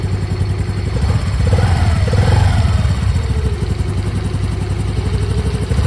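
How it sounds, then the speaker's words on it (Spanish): A 2024 Honda Navi Adventure motorcycle engine runs steadily at close range, swelling into a brief rev as the throttle is blipped, then settling back to a rough idle with faint mechanical clatter. "mueve un poco el acelerador"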